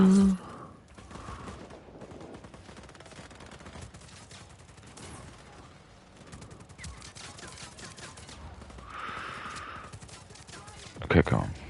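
Bursts of rapid gunfire ring out in the Just Cause 4 video game, steady fusillades running through most of the stretch with a loud flurry near the end, while voices are heard underneath.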